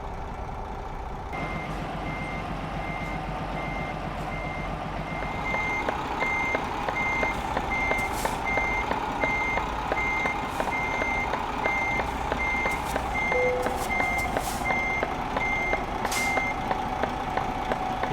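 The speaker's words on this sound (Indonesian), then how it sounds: "ini sih tinggal mundurin truk doang, parkir, terus bongkar, udah" A truck in the Euro Truck Simulator 2 game backs up to park, its reversing alarm beeping in a steady, evenly spaced series over a constant engine drone, with occasional short hiss-like bursts and no talk.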